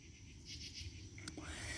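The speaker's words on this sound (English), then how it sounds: "you can hear all the crickets and locusts in the air" Faint, steady high-pitched insect chirring of crickets and locusts outdoors at night, a continuous buzzing drone with a brief sharper chirp partway through.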